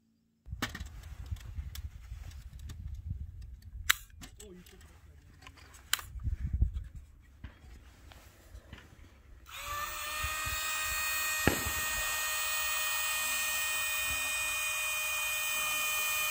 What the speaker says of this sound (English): I like to use those battery-powered barrel coolers to speed the process up